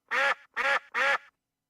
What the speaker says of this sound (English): He got ducks on the pond sound this year.